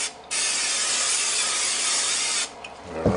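Cooking spray hisses into a Ninja Foodi Dual Heat air fry oven in one steady burst of about two seconds, close and fairly loud, followed by faint clatter.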